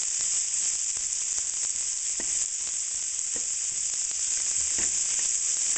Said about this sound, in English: we want these vegetables to just start to caramelize a little bit